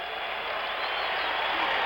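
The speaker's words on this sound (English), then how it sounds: "Listen to the crowd." A packed 1977 basketball arena crowd at a 76ers–Trail Blazers game roars and applauds steadily, a dense, loud wash of cheering that holds throughout without letting up.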